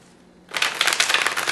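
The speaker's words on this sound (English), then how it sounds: "You could shuffle the cards that way, or other shuffling methods." Minchiate tarot cards being shuffled, a quiet pause followed by a sudden burst of rapid crisp riffling flutter, close and bright, lasting about a second.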